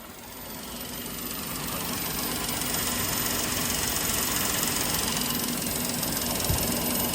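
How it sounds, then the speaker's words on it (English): Engine of a Toyota Will running steadily at idle with its AC compressor engaged, a continuous low mechanical drone with a faint rhythmic knock, close and fairly loud throughout. "My compressor now kicks in, so it was over pressured before."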